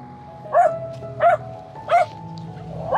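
A dog barks three times at an even, unhurried pace, each bark fairly close and distinct above a quiet background hum.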